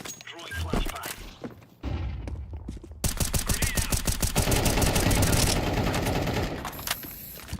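Counter-Strike match with a flashbang grenade thrown, followed by dense rapid gunfire, loud crackling bursts and thuds, with game voices and noise underneath.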